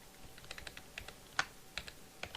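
Computer keyboard keys clicking in short irregular taps while text is highlighted and edited in a text editor, close and fairly quiet with one sharper press midway.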